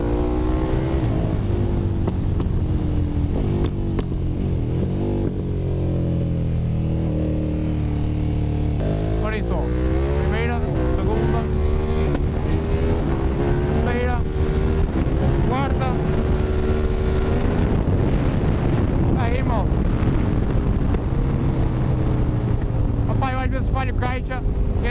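A remapped 1290 GT motorcycle engine revs while riding, with rising and falling engine tones under heavy wind buffeting, and a rider talks over it throughout.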